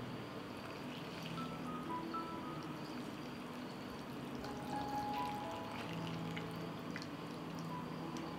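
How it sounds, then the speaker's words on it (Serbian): Warm water is poured steadily into glass jars, a faint continuous trickling stream heard close and alone. "I nalivamo sa toplom vodom."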